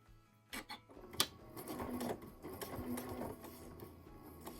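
A domestic sewing machine stitches binding onto a small round log cabin quilt, its close, steady mechanical whirr running in short bursts with light clicks as fabric feeds through.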